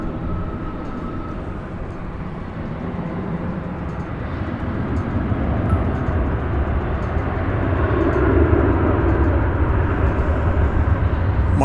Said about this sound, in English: This is a 7879 Dreamliner.